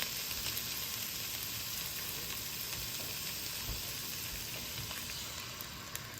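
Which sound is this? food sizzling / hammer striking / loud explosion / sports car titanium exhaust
food sizzling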